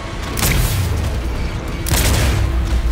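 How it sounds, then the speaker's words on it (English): Explosions in a Batman video game: two deep booming blasts about a second and a half apart, loud and close, rumbling under continuous game noise with no talk. "Oh, explosion."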